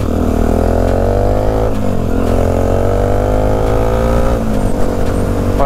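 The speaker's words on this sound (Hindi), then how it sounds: "और अभी हम चला रहे हैं वैभव की डोमिनार" A Bajaj Dominar 400 motorcycle being ridden on a mountain road gives a loud, steady engine drone with the pitch easing down and climbing again during gear changes, dense wind noise throughout and no voices.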